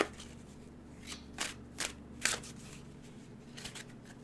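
Tarot cards being shuffled by hand, a few soft riffling bursts and papery flicks spaced across a quiet room with a low steady hum underneath.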